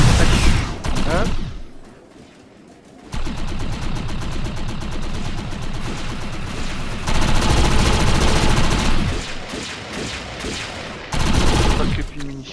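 Rapid automatic gunfire in a shooter video game, loud bursts of machine-gun fire broken by a short pause and later fresh volleys, with players talking over it.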